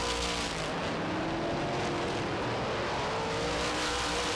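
Supermodified race cars at Star Speedway pack together nose to tail, a continuous loud roar of engines filling the whole stretch with no letup.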